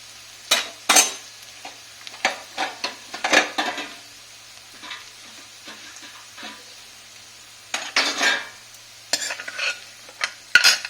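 Fried potatoes in hot oil are lifted out. Sporadic scraping and clattering bursts of a utensil against the cookware sound over a soft sizzle, with quiet gaps between the strokes.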